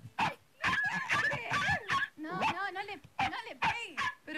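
A person's voice mimics a dog fight, with yips, growls, whimpers and barking yelps coming in quick, uneven bursts, close and loud.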